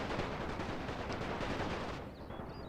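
Dense gunfire from a First World War battle involving Serbian and Ottoman troops in The Great War video game, rapid rifle and machine-gun shots crackling continuously as a loud, unbroken fusillade that thins slightly near the end.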